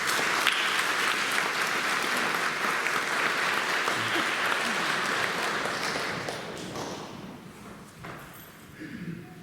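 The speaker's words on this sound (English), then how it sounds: "Can we please pause and give a round of applause for everything that these students have accomplished" A large crowd applauds loudly and steadily, the clapping holding for several seconds before tapering off toward the end.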